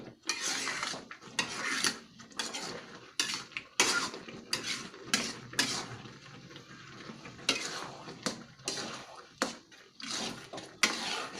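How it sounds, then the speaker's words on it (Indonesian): A utensil repeatedly stirs and scrapes risoles filling in a pan, producing rhythmic clattering strokes over a soft, steady sizzle, close and fairly loud. "Kita aduk terus, kita coba cek, oh udah lunak"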